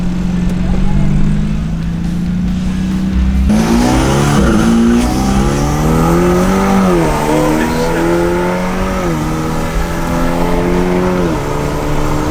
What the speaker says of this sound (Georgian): ეხლა ნამდვილი ტრეკის მანქანით შევალთ წრეზე.